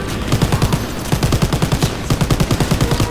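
Machine gun fire in a video game during a train ambush, rapid close bursts of shots in rhythmic volleys with brief gaps between strings of rounds, loud and continuous.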